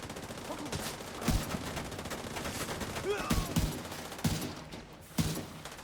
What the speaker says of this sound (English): There's a suppressed sniper there.